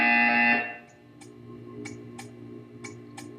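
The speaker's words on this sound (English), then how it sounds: "You will hear a buzzer." Buzzer in the video game Portal 2, a loud steady electronic tone sounding for about half a second before cutting off, followed by faint quiet clicks and ticks.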